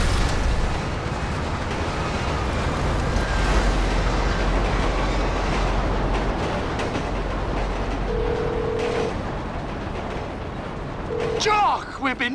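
A train rumbles past in Grand Theft Auto V, a loud, steady low roar with rattling that holds for most of the stretch before easing off, with a brief voice near the end.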